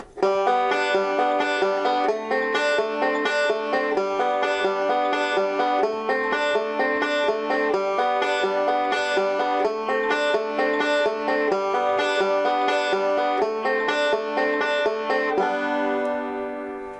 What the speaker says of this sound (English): now we're going to add the forward roll